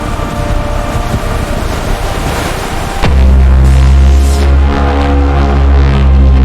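Sea waves crash back in a dense, loud roar of water and wind that surges midway and swells into a heavier, rumbling wash with a low hum beneath it.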